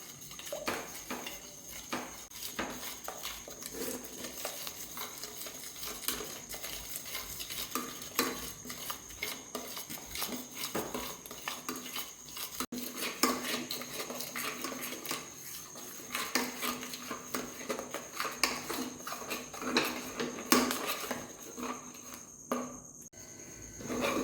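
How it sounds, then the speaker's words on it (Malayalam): Thick ragi kali dough is stirred steadily in a pot, giving a continuous scraping, bubbling rustle that stays even and close for the whole stretch, without speech. "കൈവിടാതെ നന്നായിട്ട് കുറുക്കിയെടുക്കുക"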